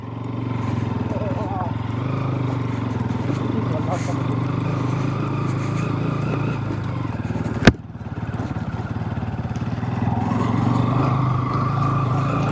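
A motorcycle climbs a rough, broken road toward a hilltop viewpoint in Chikkamagaluru, its engine droning steadily and close with rattles and one sharp knock midway, while a rider talks over it.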